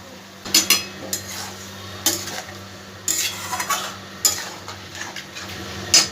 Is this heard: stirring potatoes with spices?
yes